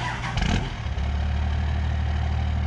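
A straight-piped 24-valve P-pump diesel truck engine starts with a short loud rough burst, then settles into a deep, steady, tractor-like idle close by.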